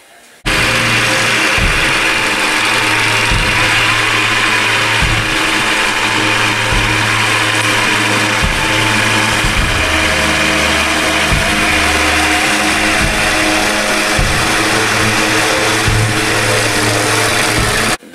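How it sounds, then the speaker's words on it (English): A Walker 42 GHS riding lawn mower's engine runs loud and close throughout, a steady droning hum with rhythmic pulsing rises and falls as it mows. "Doing some mowing."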